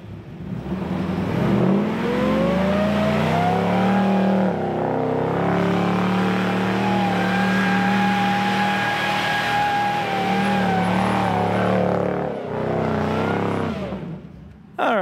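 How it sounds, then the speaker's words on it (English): A Toyota 4Runner held in first gear spins a donut in place near Gunlock Falls, its engine revving loudly and steadily with a rising whine for most of the stretch before dropping away near the end. "Spin one donut right here without rolling it. Hold it in first gear."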